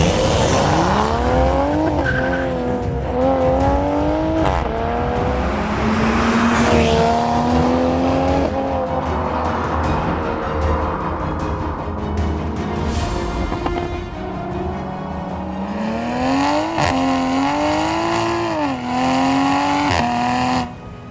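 A 2020 Toyota Supra driven hard, engine rising and falling through repeated accelerations with rubbery tire squeal mixed in, steady and fairly loud throughout with no talking.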